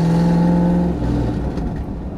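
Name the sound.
Ford Mustang with damaged exhaust revving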